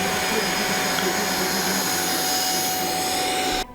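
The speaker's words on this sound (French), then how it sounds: "on l'entend, mais c'est très loin d'être aussi bruyant qu'un véritable aspirateur" A Conga 9090AI robot vacuum cleaner runs at suction power 3 with a steady, loud, broadband whir. It holds level throughout and drops off abruptly right at the end.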